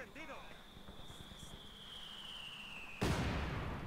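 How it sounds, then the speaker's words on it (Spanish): Mortar shelling in a Company of Heroes 2 multiplayer battle: a single sudden explosion lands near the end, after quieter battlefield ambience and a thin sustained tone, with faint game sounds and a voice earlier. "Así que yo estoy bombardeándolo con morteros."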